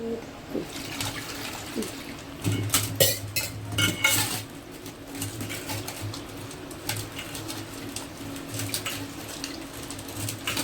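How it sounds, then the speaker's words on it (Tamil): A utensil scrapes and clinks against a metal pot of dried fish curry in irregular bursts, with soft stirring noises and a faint bird cooing in the background. "வந்து நல்லா கிண்டி விட்டுக்கிறோம்."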